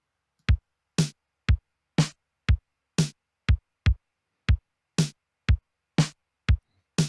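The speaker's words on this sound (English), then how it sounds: "I'm going to add a bass drum here and the different snare sound here" A programmed drum pattern in Ableton alternates a deep kick with a crisp snare in a steady, evenly spaced beat, dry and isolated with silence between hits.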